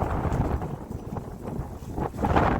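Violent wind blows hard against the microphone in a continuous, loud, buffeting roar that surges in gusts and swells toward the end, with no voices.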